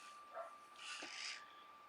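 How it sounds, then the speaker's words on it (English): A dog barks outdoors, heard from inside as a couple of muffled, fairly distant woofs separated by a short pause over quiet room hiss. "I hear a noise outside. The dog's barking."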